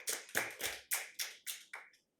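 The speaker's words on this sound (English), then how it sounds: "So let's at least applaud him." Sparse applause from a small audience at a Waterloo municipal candidate forum: about eight distinct claps in a fairly even rhythm, close and clear, fading out after two seconds.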